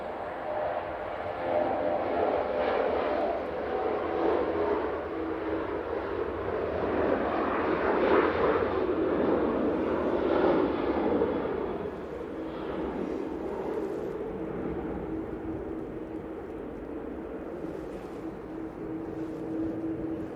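A Jet2 airliner rolls for takeoff at Manchester Airport in windy weather, a broad engine roar that swells over several seconds and then eases away, heard from a distance without talk.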